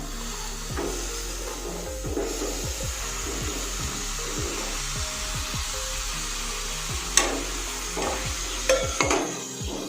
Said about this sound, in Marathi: आपण वांगा आणि बटाटा ह्यामध्ये टाकून घेऊया